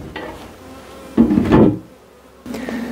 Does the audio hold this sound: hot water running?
no